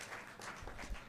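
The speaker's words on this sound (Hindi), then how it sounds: "जोरदार तालियां एक बार फिर से" Audience applause at a closing ceremony, a dense burst of clapping that fills the whole short moment at moderate level.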